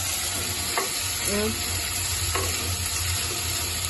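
Ginger-onion paste pounded in a mortar hisses and crackles as it hits hot oil in a pan for chicken curry, a steady close sizzle with a few brief stirring scrapes.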